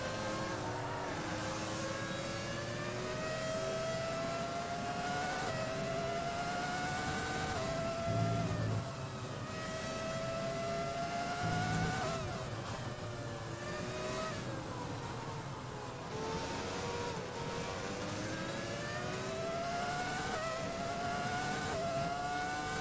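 Race cars, including a Ferrari, scream along a rainy Grand Prix circuit in the F1 2020 video game, engines rising and falling through repeated gear shifts in a continuous, fairly quiet high-pitched whine.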